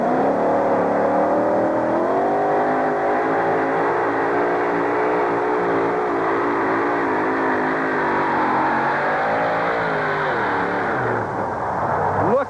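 The Irish Challenger two-wheel-drive truck strains through a pull in an Anaheim stadium at a 1991 USHRA event, its engine roaring loud and continuous with a wavering, rising rev over about twelve seconds.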